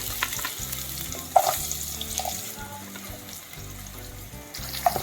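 Potato pieces frying in oil in a pan for semiya upma give off a steady, crackling sizzle, with occasional sharper clinks and stirring sounds.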